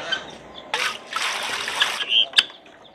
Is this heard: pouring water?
yes